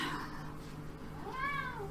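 A cat meows once, a drawn-out rising and falling cry, close and clear over a steady low background noise.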